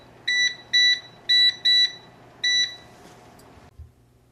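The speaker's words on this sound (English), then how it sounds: "Set the timer." Five quick bursts of high electronic beeping in an uneven rhythm, each a rapid double pulse, close and loud, then a soft thump.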